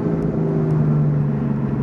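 A BMW F8X exhaust fitted with a secondary cat delete and MPE idles with a steady deep droning rumble and low hum, close and loud, no voices.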